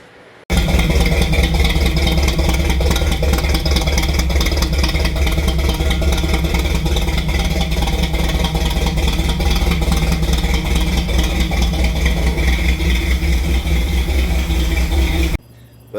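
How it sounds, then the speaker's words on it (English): A C10 Squarebody Chevy truck engine starts and runs loud and close, holding a steady, rough, clattery idle for about fifteen seconds before cutting off abruptly, with no talking. "as you heard, finally got the motor running. Finally got her fired up"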